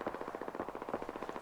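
Faint rapid gunfire in Fallout 4, a steady stream of distant shots rattling in a fast, even rhythm for a brief burst.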